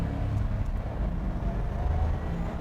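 A 2007 Ford Mustang GT500 cornering hard, its low engine rumble droning steadily from inside the car, fairly quiet with no talk.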